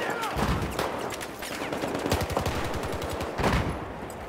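Gunfire in the video game Battlefield 4: rapid automatic bursts and scattered shots crackle continuously, loud and close, with a few dense volleys among the steady shooting.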